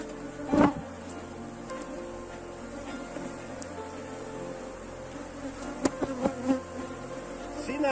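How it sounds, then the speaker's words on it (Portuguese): An aggressive honeybee swarm hums continuously around hive frames, close and dense, during a colony split. Occasional knocks and bumps from handling the frames break through the buzzing. "Por isso que o enxame está bem agressivo"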